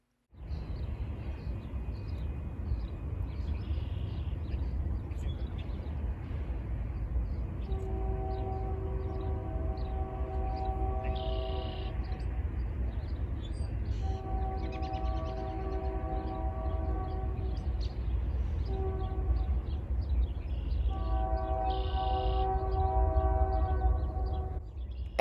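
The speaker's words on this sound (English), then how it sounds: "a Norfolk Southern southbound was quickly approaching" A Norfolk Southern southbound freight train approaches with a low, steady rumble and repeated long horn blasts that grow louder, with a bell-like ringing near the end.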